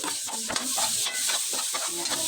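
Garlic and onion sauté in a pan with a continuous crackling sizzle and light stirring scrapes, close and steady throughout.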